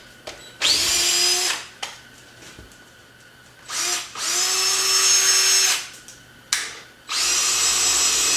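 A power drill with a bit bores a hole through wood for a bolt, whining up loudly in several long bursts separated by short pauses, close by with no speech.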